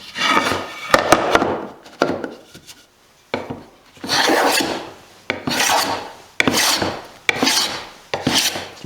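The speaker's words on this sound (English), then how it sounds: "So we'll see if I can take some shavings off of it now." A rehabbed block plane shaves thin curls off an apple wood board in repeated rasping strokes, each a short scraping swish with brief pauses between, close and fairly loud.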